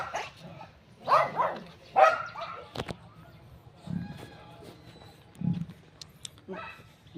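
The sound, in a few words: dogs barking at a zoo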